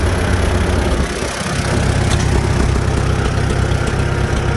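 A Farmall Super M-TA tractor engine runs loud and close, a steady rumbling idle with a slight dip in level partway through.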